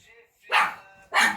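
A pet dog barks twice indoors, two sharp, close, loud barks separated by a brief pause.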